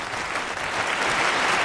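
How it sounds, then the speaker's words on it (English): A round of applause on a Saturday morning radio show, a continuous rush of clapping from a small group, fairly loud and steady throughout with no talking. "A round of applause for you."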